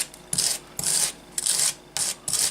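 A wire brush scrubs against a small part of a Tamiya Tiger tank model, roughening it in about five short, evenly spaced rasping strokes, close and crisp with brief pauses between.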